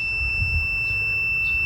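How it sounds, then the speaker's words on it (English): A steady, high-pitched electronic tone from a continuity tester checking garden railway track for a short holds unbroken and fairly loud for the whole moment, over a low background rumble. "This was the only stretch of track that beeped, and now it's not beeping."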